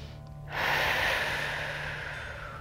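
A single deep breath during restorative yoga, a long, close, airy inhale or exhale that swells suddenly and then slowly fades, with a faint steady hum beneath.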